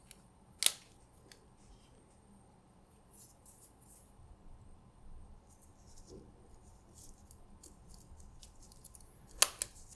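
Small scissors snip through a thin part while a date disc is fitted on an ETA 2783 watch movement. A sharp single cut comes near the start and another near the end, with faint handling noises between in a quiet room.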